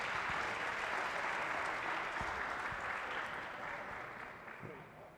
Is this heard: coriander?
no